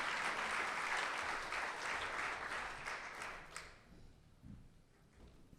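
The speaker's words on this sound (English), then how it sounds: "I want to ask everybody to give our panelists a round of applause." Applause from a conference audience for a panel of speakers, a dense wash of many hands clapping loudly for about three seconds before thinning out and fading to near quiet.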